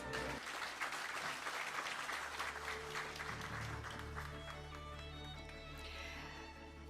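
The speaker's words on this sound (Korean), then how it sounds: "여러분 올라오실 때 큰 박수 부탁드립니다" Steady applause from an audience at a Korean credit union's 59th anniversary ceremony, greeting an award presenter as he walks up to the stage, sustained and even with faint background hum throughout.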